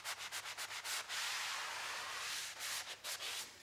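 Close, scratchy sanding on a plasterboard wall: quick rhythmic back-and-forth strokes, then a long steady rub, then short strokes again.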